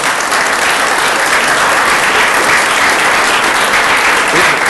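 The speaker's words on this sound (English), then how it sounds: "let's give them all one big last round of applause" Steady, enthusiastic applause from a sizable crowd at a school board meeting fills the room, continuous and loud throughout.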